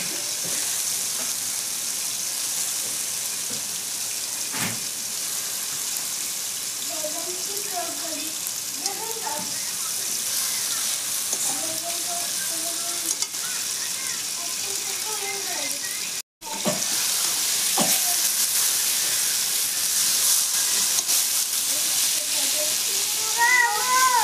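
Rohu fish sizzles as it fries in spice masala in a pan, a steady hiss with occasional stirring clinks, while someone talks intermittently over the cooking.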